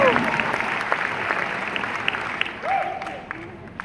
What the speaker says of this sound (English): They're going to clap for you as you make your way back.